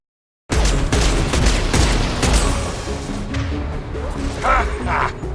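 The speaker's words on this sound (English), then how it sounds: "Firing kick. Concussive shot." Concussive Shot ability firing in Mass Effect 2 combat, a sudden loud blast that opens a dense, continuous run of impacts and gunfire crackle lasting several seconds.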